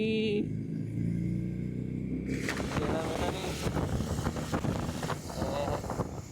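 An old Honda City exhaust rumbles ahead on a night road, a steady low drone mixed with wind buffeting, while people talk over it.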